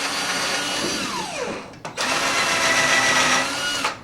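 A power drill cuts a countersink into a computer desk built on Ikea three-tier shelving. It whines loudly and steadily up close in two bursts, with a brief stop just before the second.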